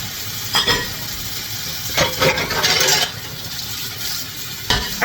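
Dishes being scrubbed and clattered at a kitchen sink: a few loud bursts of scraping and clanking, the longest near the middle, over a steady hiss of running water, with no talking.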